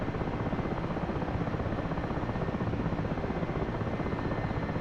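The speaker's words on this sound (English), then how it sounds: "Hover taxi is good practice though. Give me like a feel for the helicopter again." Helicopter hover-taxiing in the DCS flight simulator game: a loud, continuous rotor thrum with rapid, even blade chop and no speech over it.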